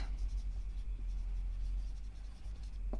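Chalk or marker scratching across a classroom board during a chemistry lesson on soaps and detergents: soft, continuous writing strokes, faint and close, over a low steady room rumble with no talking.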